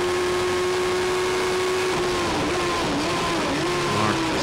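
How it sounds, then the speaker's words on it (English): Race cars with car engines, heavier and more powerful than bike-engined rivals, accelerate along a circuit straight at a Sevens Challenge race, a steady loud engine drone rising and shifting in pitch without speech. "See the car engine cars, much more powerful, a lot heavier."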